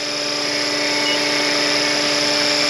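RC scale Bell Huey helicopter with a four-bladed rotor head on 500-size mechanics in test flight, a steady high electric whine with tonal hum, close and constant throughout.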